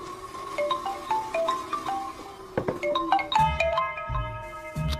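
A phone ringtone plays a repeating melodic tone pattern, loud and close, with faint background noise and no talking.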